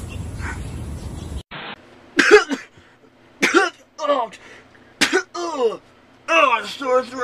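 A person with a sore throat coughs and clears their throat several times in harsh, rasping bursts, close to the listener, with short gaps between them.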